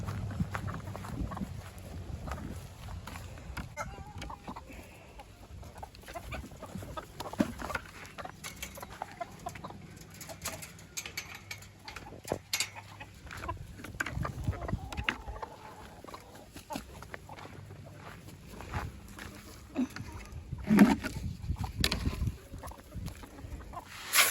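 Chickens cluck intermittently close by, scattered soft clucks and scratches over an outdoor background, with an occasional louder squawk.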